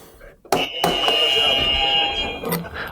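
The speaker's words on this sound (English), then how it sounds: "press your buzzer and let me know what you get" A quiz game buzzer at a live coding quiz event blares a sustained electronic tone right after a sharp press, ringing loudly for about two seconds before cutting off, followed by brief noise.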